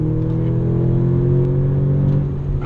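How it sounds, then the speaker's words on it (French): An Audi S3 8V engine pulls steadily under acceleration on a small road, a loud, continuous low drone with rising harmonics heard from inside the car. "le moteur est assez incroyable, la sonorité est très sympa"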